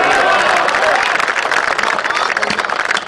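A large crowd claps loudly and steadily at a Hindi kavi sammelan poetry recital, a dense sustained wash of applause filling the hall, with voices murmuring faintly beneath.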